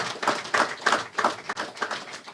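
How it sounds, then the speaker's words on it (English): Audience applause for 36 officers graduating from a defence force basic military course at its closing ceremony, heard as a run of soft, evenly spaced claps at a distance, fairly faint. "Could we give them all a special round of applause?"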